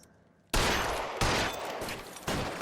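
Gunfire in the 1940s Los Angeles crime game L.A. Noire erupts as a close, loud burst of shots after quiet, with several sharp volleys cracking in succession.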